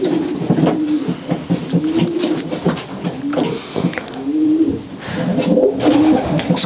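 Soft, throaty cooing of a male racing pigeon in a loft, repeated in low rolling phrases close by, with faint rustling and other birds in the background.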